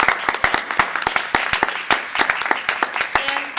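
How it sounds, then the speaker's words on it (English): A small group at a panel discussion claps in a scattered, uneven burst of applause, close by, with a voice faintly audible underneath. "a final round of applause."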